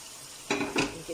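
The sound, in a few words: stirring mutton with curry powder, jeera and turmeric in pot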